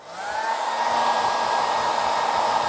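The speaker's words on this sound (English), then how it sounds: "I like to pinch the wife's hairdryer." A hair dryer heat-shrinking a battery wrap blows steadily nearby, a constant whooshing hum with a faint motor whine, running without pause.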